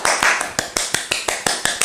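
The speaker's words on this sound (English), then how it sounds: "Give yourself a round of applause." Hand claps in a slow, steady rhythm, about eleven sharp, evenly spaced claps, close and fairly loud with no voices, as someone gives themselves a round of applause.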